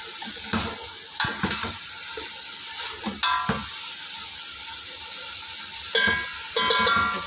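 Capsicum frying with minced meat and onion for macaroni keema makes a moderate sizzle, punctuated by repeated metallic spoon clanks against the pan as it is stirred.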